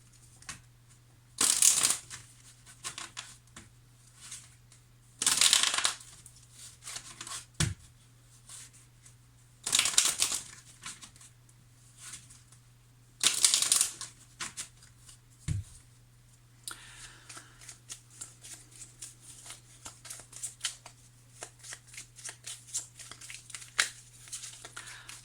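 Oracle cards shuffled in a quiet room, four short crisp riffling bursts spaced a few seconds apart, followed by faint soft handling clicks over a low steady hum.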